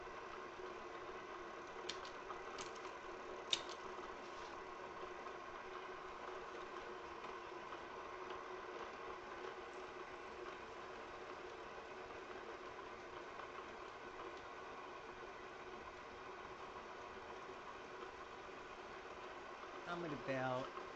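A South Bend Heavy 10 lathe drills into a chuck plate at low RPM, giving a steady, even machine hum with faint ticks and brief clicks near the start and a short shift in tone at the very end.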